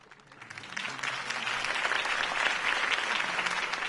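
A crowd in a video game claps and cheers after a political campaign speech, with dense, steady applause that swells over the first second and then holds strong to the end.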